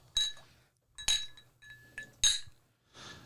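Glasses of whiskey clinked together in a toast, four separate bright ringing clinks spaced about a second apart, close and clear, with no voices over them.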